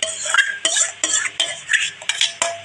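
Wood apple pulp, scooped clean of its shell, is tipped into a vessel, giving a run of close, repeated knocks and scrapes of utensil against the container in quick irregular bursts, with no talking.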